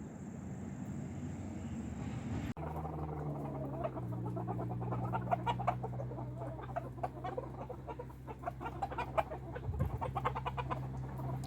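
Chickens clucking and pecking while eating grass in an October barnyard, a steady run of soft clucks and short bird calls close by, over a continuous low hum, with no talk.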